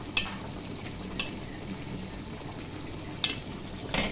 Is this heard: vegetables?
yes